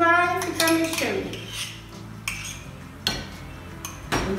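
A utensil scrapes and clinks against a pot while white sauce with mayonnaise is stirred, with sporadic metallic knocks over a low background hum.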